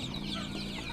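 KUB chickens on a poultry farm cluck steadily and close by, a dense continuous run of hen clucks filling the whole second with no talk over it.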